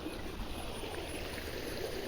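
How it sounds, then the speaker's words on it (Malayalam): A stream runs beside rice fields near a temple, producing a faint, steady rush of flowing water that continues evenly without breaks. "തോട്ടിൽ കൂടെ വെള്ളം പോകുന്ന സൗണ്ട് കേട്ടോ"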